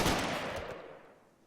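Turret gunfire from two defensive turrets in the colony game Rimworld: a short dense burst of shots up front, fading into a decaying tail, with no talk over it.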